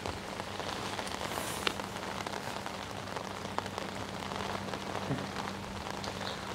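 Heavy rain pours steadily onto a fishing lake at Timberlands in Essex, a dense, even hiss of drops with occasional louder taps nearby.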